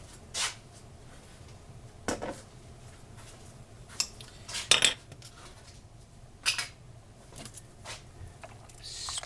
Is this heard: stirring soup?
yes